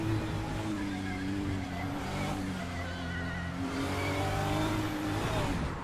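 Race cars in Le Mans Ultimate roar loudly and continuously, engines droning and shifting pitch as a Lexus passes close alongside, with no talk over the engine noise.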